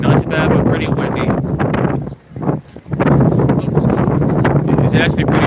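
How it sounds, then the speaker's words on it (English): Steady wind gusting by the waterfront in downtown Hamilton, Bermuda, a continuous broadband rush with a brief lull midway, loud and close on the microphone. "It's windy out here today."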